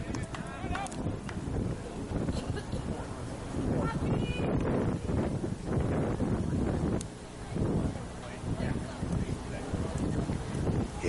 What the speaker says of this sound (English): It is a little breezy today.